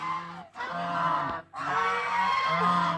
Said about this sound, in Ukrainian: гуси білі